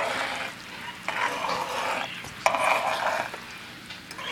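Homemade wax stirred in a pot on a stove, a utensil scraping and swishing in repeated strokes of about a second each, close and moderately loud, with faint clinks.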